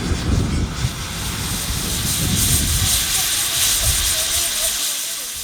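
A new-build GWR Grange class steam locomotive at the Swanage steam gala lets off a loud, steady, close hiss of steam, with deep rumbling underneath that eases slightly toward the end.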